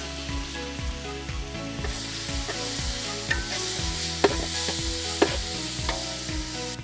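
Tomato pieces frying with onion paste in a pan, a steady sizzle and crackle with repeated rhythmic stirring strokes and a couple of sharp clinks of the spoon against the pan.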